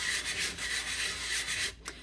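Steady wet rubbing of abrasive paper against hard epoxy resin, continuous back-and-forth strokes, close and moderately loud, with a brief pause near the end.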